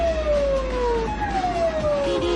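A Japanese police car's siren wails past loudly in a falling, wavering tone during a chase, over a heavy low engine rumble and traffic noise, with no one speaking.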